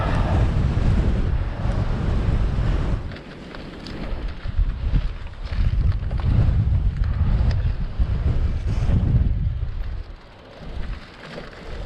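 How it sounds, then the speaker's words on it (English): Strong seaside wind batters the microphone during a bicycle ride by the sea, a loud, rough roar that gusts and briefly drops away before surging back. "I hope this wind direction doesn't change before we head home."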